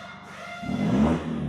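An Isuzu D-Max pickup engine revs up from a quiet idle into a loud, throaty rumble that swells and holds for about a second, close by and with no talk over it.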